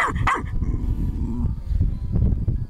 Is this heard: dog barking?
yes